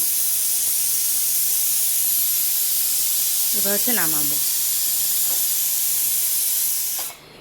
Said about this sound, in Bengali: মাংস একটু গরম জল দিয়ে চার সিটি দিলাম